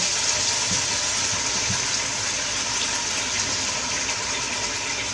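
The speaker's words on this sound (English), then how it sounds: "Now I just added water up to about halfway" Water pours steadily into a cooking pot while osso bucco is prepared, a continuous rushing gush heard close and alone with no talk.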